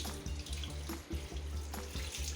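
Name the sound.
water flowing out of RO purifier filter output pipe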